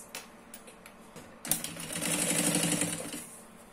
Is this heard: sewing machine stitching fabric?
yes